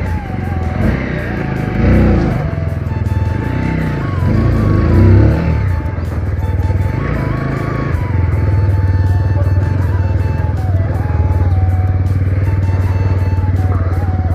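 A motorcycle is ridden with a steady loud engine drone and wind rumble throughout, the engine note rising and falling a little, with no talking.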